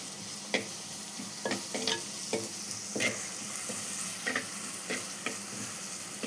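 Onion fries in a pan with a steady sizzle while a spoon stirs it, giving evenly spaced scraping strokes and light clicks over the hiss, close and without talk.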